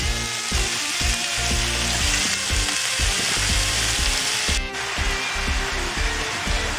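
Mixed vegetables with red cabbage, peppers and onion sizzle in a pan in a steady frying hiss, with a run of rhythmic low knocks and clatter over it, loud and close.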